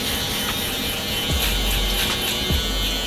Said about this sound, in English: just gently gliding, letting the shaver do all the work